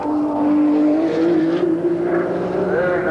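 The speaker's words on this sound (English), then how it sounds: "in the second Nissan Motorsport entry, the Nissan GTR" A Nissan GTR race car roars through the 1991 Bathurst 1000, its loud engine holding a high, sustained whine that shifts pitch as it drives, with faint commentary underneath.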